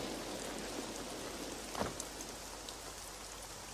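Steady rain hisses throughout, with a brief louder splash near the middle, all fairly faint and with no voices.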